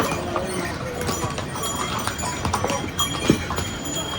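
Horse hooves clip-clop along the mountain trek path from Gaurikund to Kedarnath, a steady run of close hoof strikes with a busy outdoor background.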